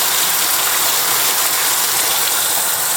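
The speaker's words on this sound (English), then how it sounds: "The rain's been doing this for about an hour." Heavy rain pours down in a dense, unbroken roar that stays loud and even throughout, with no voices.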